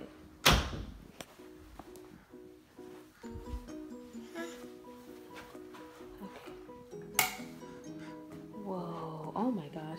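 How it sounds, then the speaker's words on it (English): A room door is closed at night, giving two sharp thuds several seconds apart, with small clinks in between while people talk throughout. "Let's close the door."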